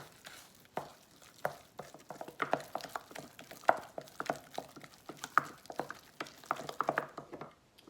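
Sweet potato pie filling with brown sugar being stirred by hand in a bowl, giving close, irregular scraping and tapping strokes of moderate loudness with no voices.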